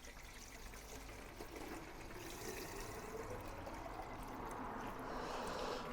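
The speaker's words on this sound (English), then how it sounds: "we'll just put a bit of water in it for the time being" Water is poured into the small windscreen washer bottle of a Mazda MX-5, a faint, steady gurgling trickle that thickens slightly toward the end, with no talking.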